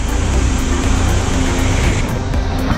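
A Peugeot 106 street-race build idles steadily with a loud, continuous engine rumble and broadband roar throughout, the low pulsing hum never letting up and no voices present.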